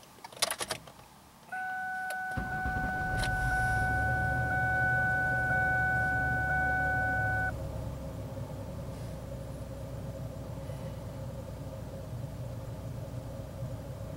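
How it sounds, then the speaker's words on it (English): A 2001 Ford Taurus with a 3.0 OHV V6 cranks briefly over a two-tone warning chime, fires up and settles into a steady low idle, heard close with no talking. "So I'm going to start up my car and see if it's fixed."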